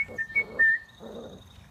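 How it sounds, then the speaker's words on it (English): Four-week-old Briard puppies whimper in short, high, thin whines, three quick squeaky cries close together followed by a softer, breathy whimper, near and alone. "Puppies."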